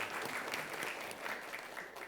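A studio audience at a televised school quiz show applauds a band, with dense, even clapping that holds steady throughout and fades slightly toward the end.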